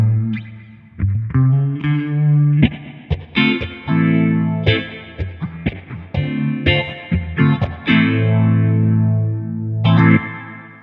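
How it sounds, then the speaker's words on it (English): Clean electric guitar chords and single notes ring out with a splashy, wobbly spring reverb tail, played up close. "It's my classic amp spring reverb."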